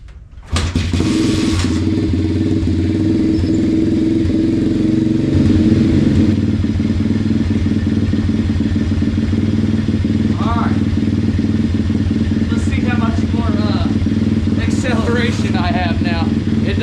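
A motorcycle fitted with a new sprocket starts up and runs loudly and close on a night test ride, a steady engine drone with some clatter, while people talk over it.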